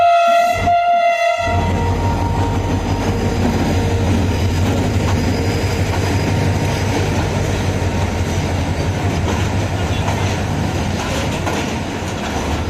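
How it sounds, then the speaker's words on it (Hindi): The Shah Latif Express arrives at a station platform. A loud horn blast is followed by a continuous heavy rumble and rolling wheel noise close by, with no talk. "प्लेटफॉर्म नंबर 3 पर 152 डाउन शाह लतीफ़ एक्सप्रेस जो अराइव कर रही है"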